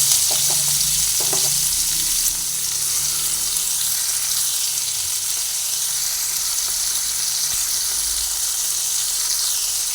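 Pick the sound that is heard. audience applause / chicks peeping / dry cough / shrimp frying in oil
shrimp frying in oil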